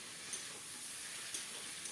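Spices frying in a wok hiss and sizzle steadily after a splash of water is added while cooking a cabbage and koi fish curry, with a couple of brief louder spurts over the constant crackle.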